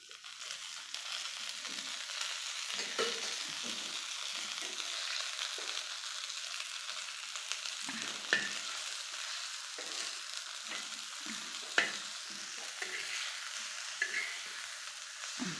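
Brinjal pieces frying in oil in a pan while being stirred, a steady close sizzle with occasional scraping clicks from the stirring, no talking.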